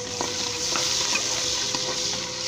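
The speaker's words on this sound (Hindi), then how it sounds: "गोल्डन कर लें, सुनहरी कर लें अदरक लहसुन प्याज को" Ginger, garlic and onion fry in oil in a pan, sizzling steadily with a constant crackling hiss and occasional stirring clicks, close up and without talk.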